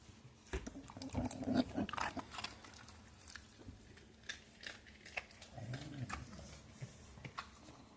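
Puppies outdoors on a cold day snuffle, scuffle and chew with faint growly noises, close by, in scattered bursts over quiet ambience without talk.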